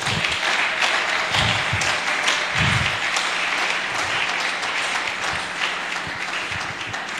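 A church congregation applauds and cheers loudly and continuously, dense clapping filling the whole stretch with scattered louder shouts and thumps.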